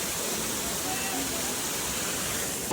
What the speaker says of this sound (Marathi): इकडं बघा धबधबा झाले, पाणी पडतं इथं